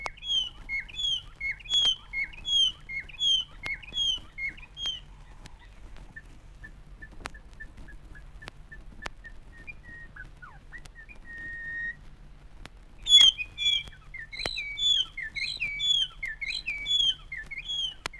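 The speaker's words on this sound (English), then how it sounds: "Robin is also called the white-browed robin, for obvious reasons." A white-browed robin, an African songbird, sings rich, varied whistled phrases in repeated bursts, pauses with a few thin held whistles, then resumes full song, clear and fairly close with no voices.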